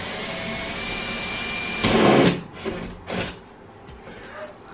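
A power drill bores through a board while an IKEA dressing room island is assembled, a steady whirring drone that ends after about two seconds, followed by a few knocks and handling thuds.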